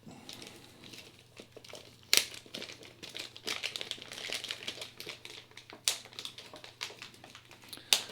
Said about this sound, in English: Let's take him out of the plastic.